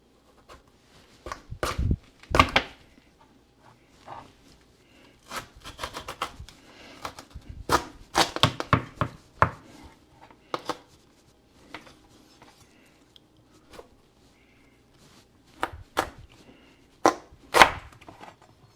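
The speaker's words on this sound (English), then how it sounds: "Now we're going to attempt to cut this through." A knife cuts through a tough spaghetti squash with a series of sharp, irregular thunks and cracks. The blows come in uneven bursts with quiet gaps between them, close and fairly loud.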